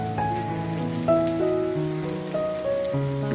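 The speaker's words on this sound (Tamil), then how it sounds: "அவங்க சொல்லியிருந்த மாதிரியே நல்ல மழை பொழியுது" Heavy rain pours down steadily with a dense, continuous patter, joined by clear sustained tones that step from one pitch to another throughout.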